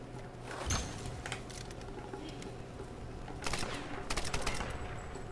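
Gunfire breaks out in the Tomb Raider video game, with a sharp shotgun-like blast early on and then a dense cluster of rapid shots near the end, heard over a steady background of game ambience.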